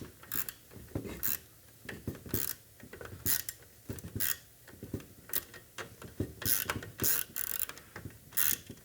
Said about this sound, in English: So you'll know it's tight if you can turn the Allen wrench and the nut on the other side is spinning.